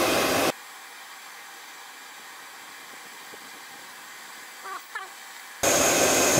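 A heat gun blows a steady, loud hiss of hot air onto the old stuck gasket on a valve cover from a 2002–2005 Toyota Camry 2.4L 2AZ-FE engine. It is strongest at the start and end, with a softer stretch between.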